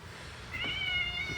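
A house cat in a closet with carpeted flooring gives one drawn-out meow about halfway through, clear and close, after a moment of quiet room tone.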